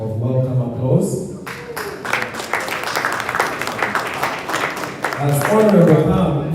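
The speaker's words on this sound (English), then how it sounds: "a round of welcome applause?" Forum audience applauding to welcome a guest speaker: a dense patter of clapping in the middle stretch, framed by a speaking voice at the start and end.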